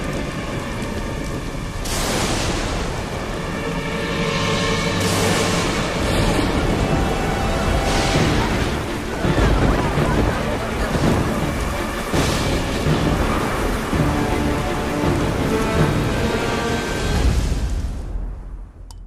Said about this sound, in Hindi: ये तूफान तब तक थमना नहीं चाहिए